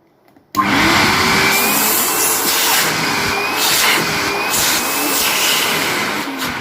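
A Bosch GAS 11-21 vacuum cleaner switches on after a click and runs steadily with a loud, continuous whining roar close by, holding a constant motor tone through to the end.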